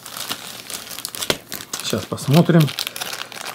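Plastic packaging bags crinkle and rustle in bursts as a parcel holding a construction kit is unpacked by hand, close up, while someone speaks briefly.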